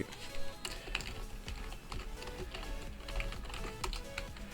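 Rapid, steady clicking and tapping of computer keyboard keys during a session of the online game Margonem, close and fairly quiet, with a continuous irregular typing rhythm and no speech.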